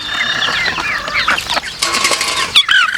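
Tamil Nadu country chickens on a farm in Karnataka cluck and squawk close by in quick, overlapping bursts, with a few sharp, high cries near the end.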